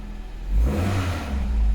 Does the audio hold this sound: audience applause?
no